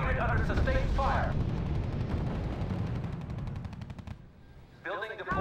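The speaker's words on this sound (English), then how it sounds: "Unit under sustained fire" Sustained machine-gun and rifle fire rattling continuously on a unit in the strategy game R.U.S.E., dense and loud, with battlefield rumble and brief radio voice chatter at the start and end.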